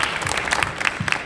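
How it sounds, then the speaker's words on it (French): A brief, fairly loud burst of audience applause in a conference hall, dense clapping filling the short moment without any talk. "Je pense qu'on peut t'applaudir, Mathieu"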